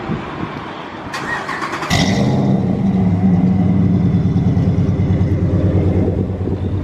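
A stock Ram pickup with a Hemi engine cranks and fires up around the two-second mark, then settles into a loud, steady, throbbing idle that stays close and runs on alone without talk.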